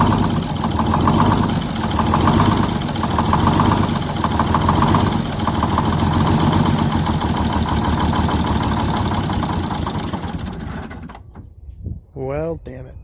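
A boat engine runs steadily and loudly for about eleven seconds during a compressor oil-leak check, then cuts out abruptly, leaving near silence with a short rising whine near the end.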